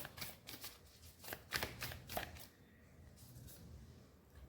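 Tarot cards being shuffled and drawn by hand, a run of soft riffling flutters and slaps early on, then quieter sliding and rustling, close and gentle.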